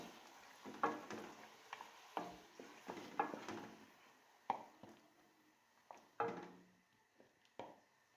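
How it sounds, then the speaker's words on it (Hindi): Mutton pieces frying in a pan for mutton korma, with scraping stirs and clinks against the pan over a low sizzle, close and fairly quiet, no talking. "इसको हम थोड़ा सा फ्राई कर लेंगे।"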